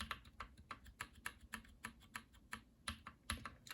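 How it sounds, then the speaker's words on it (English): Close, quiet typing on a mechanical keyboard fitted with Everglide switches, a quick irregular run of about fifteen keystrokes, each bottoming out with a soft thunk. Nobody talks. "Every time you hear a thunk, that's the Everglide"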